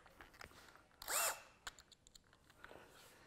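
A power drill briefly whirs up and down as it drives drywall screws into wood while building a theatre flat, one short close burst amid quiet handling clicks and knocks.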